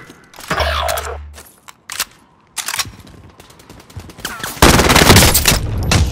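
Gunfire in the Call of Duty: Modern Warfare video game, rapid automatic bursts and heavy fusillades of shots close by, with a loud sustained volley at the end amid battle noise.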